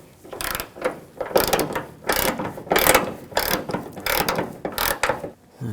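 A ratchet fitted with a 13mm socket loosens the hood hinge nuts on a 2014-2020 Nissan Rogue, giving close, loud bursts of rapid clicking in repeated strokes separated by brief pauses.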